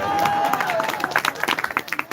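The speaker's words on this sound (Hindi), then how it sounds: "आप लोग तालियां बजाने में बहुत कंजूसी कर रहे हैं" An audience claps, loud and dense at first over a voice, then thinning into separate, uneven claps toward the end.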